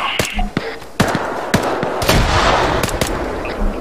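A frag grenade going off in the Arma 3 military shooter, a heavy blast set among sharp, repeated gunfire cracks and thuds spread across the few seconds, fairly loud and close.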